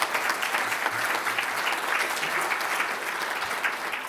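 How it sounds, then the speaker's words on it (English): An audience applauds at a Civil Service Live event, with steady, dense clapping that fills the room for the full stretch and no voices over it. "Let's applaud both Terry and Fiona."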